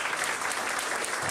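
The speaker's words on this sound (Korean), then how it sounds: "여러분 따뜻한 박수로 환영해 주시면 고맙겠습니다." An audience at a workshop claps steadily and fairly close, a dense wash of welcoming applause with no voices standing out.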